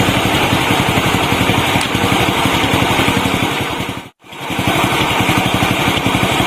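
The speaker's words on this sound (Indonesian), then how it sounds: "Ini saat langsam tuh, langsam kecil." A Viar motorcycle engine idles slowly with a loud, close, steady rapid putter that drops out for a moment and then resumes.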